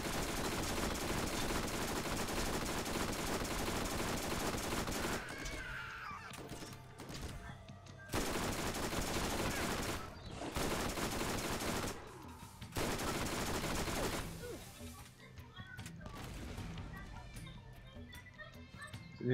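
Hellfire cheat weapon gunfire in Borderlands comes in long loud rapid bursts broken by short pauses, with someone talking over the game sounds.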